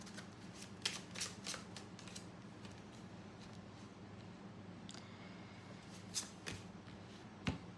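A deck of tarot cards is shuffled close by, quiet riffling and sharp flicks of cards repeating in bursts against a soft room hum.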